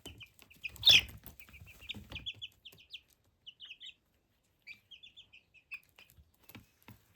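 Chickens cluck in short bursts, with a rooster-like call early on and scattered softer clucks after, fairly close and without talk.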